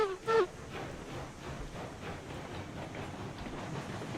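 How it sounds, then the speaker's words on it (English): Cook consolidation steam locomotive running in the video game RailRoads Online, giving a steady rhythmic chuffing with a brief whistle-like tone at the start, moderately loud and continuous with no talking. "A lot more power in that locomotive than what we've had, that's for sure."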